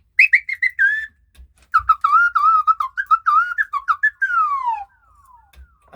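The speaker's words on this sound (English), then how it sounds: "It'll make the slide whistle a little bit warmer." A slide whistle run through an echo effect plays a quick wavering melody of gliding notes, then slides down in a long descending swoop, loud and close with no talking.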